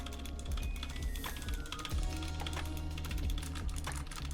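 Steady, fast typing on a computer keyboard, dense close clicks and clacks running throughout, with no talk over it.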